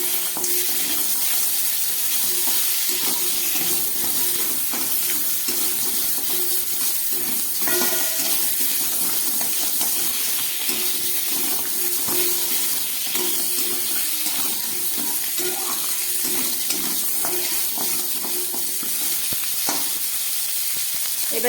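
Tengra fish go into hot spiced oil and set off a steady, even sizzle that runs unbroken throughout, with faint stirring and clinks over the frying.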